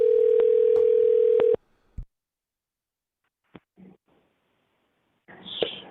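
A telephone call tone on a forwarded call: a steady electronic tone with a few clicks for about a second and a half, then short clicks and near silence, ending with a brief burst of noise.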